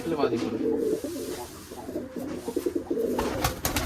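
Rajshahi Giribaz pigeons coo in low, rolling repeated calls, several birds overlapping steadily at close range, with faint human voices and some background noise underneath.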